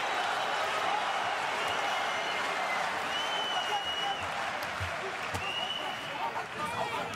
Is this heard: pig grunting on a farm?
no